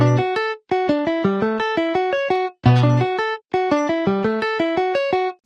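An electric guitar played through a plugin with a flat, generic default tone picks out a clean, bright repeating arpeggio pattern, crisp plucked notes in steady rhythm, with short pauses between phrases and no voice.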